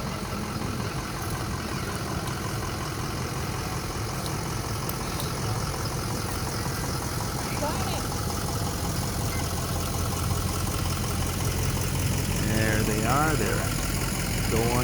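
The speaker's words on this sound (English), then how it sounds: "this is the Swanville first response vehicle" A small-town first response vehicle idles and rolls past during a midsummer carnival parade, a steady mid-low engine drone under crowd noise with a brief swell near the end.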